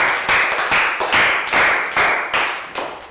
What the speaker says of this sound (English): Round of applause for Pak Bung